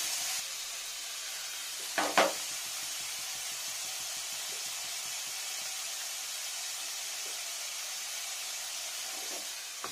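Paneer pieces sizzle in hot oil over a slowed flame while making a spinach and paneer dish: a steady, fairly loud frying hiss runs throughout, with a couple of sharper spatters near the start.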